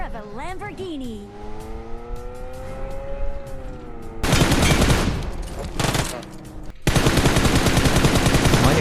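Loud rapid bursts of automatic gunfire in the mobile battle royale game PUBG Mobile, following a rising siren-like tone, with game noise and a voice in the mix.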